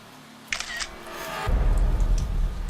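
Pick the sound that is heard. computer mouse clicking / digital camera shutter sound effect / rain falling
digital camera shutter sound effect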